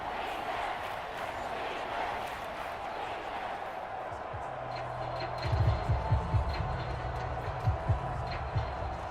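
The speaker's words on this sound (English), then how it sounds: "That just means this crowd's going to get even louder" Stadium crowd roar in the video game Madden NFL 24, Seahawks home crowd against the Cardinals, a steady broad wash of cheering that swells louder midway with rhythmic stomping or clapping pulses toward the end, under an announcer's voice.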